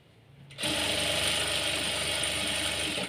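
A sewing machine stitching a blouse starts after a brief quiet moment and then runs steadily, a close, loud, fast mechanical whirr and rattle holding an even pace to the end.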